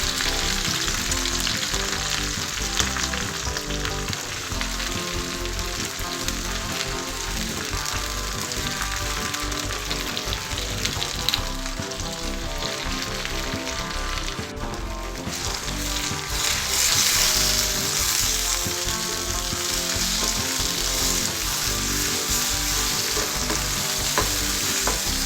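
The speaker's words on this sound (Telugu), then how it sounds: "ఆయిల్ వేడైన తర్వాత గోంగూరని ఫ్రై చేసుకోవాలి." Gongura (sorrel leaves) fry in hot oil in a pan, giving a dense, continuous crackling sizzle like rain on a surface, steady and close throughout, with no speech.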